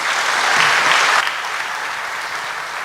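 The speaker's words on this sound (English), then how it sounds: "deserves a big round of applause from everyone" A large audience at IIT Kanpur bursts into loud applause during a talk, the dense clapping peaking early and then easing to a slightly softer, sustained patter.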